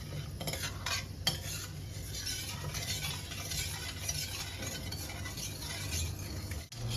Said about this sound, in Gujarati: જ્યાં સુધી ખાંડ ના ઓગળે ત્યાં સુધી આપણે ચાસણીને હલાવતા જઈશું